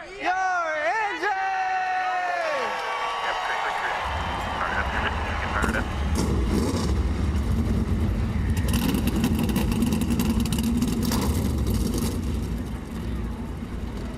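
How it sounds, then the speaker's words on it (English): A field of NASCAR stock cars fires up its engines at Nashville Superspeedway for the 2022 Ally 400. A voice and a honk-like call come first, then a dense, loud engine roar builds and holds under talk. "The sweet sounds of the engines firing up here at Nashville Superspeedway once again."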